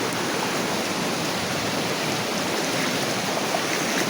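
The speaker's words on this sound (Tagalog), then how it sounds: "Guys, naabutan na kami ng ulan." Rain falls outdoors onto open water, a soft, steady hiss of dense droplets continuing evenly and fairly faint, with no voices.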